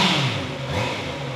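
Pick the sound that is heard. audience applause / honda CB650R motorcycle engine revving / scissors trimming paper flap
honda CB650R motorcycle engine revving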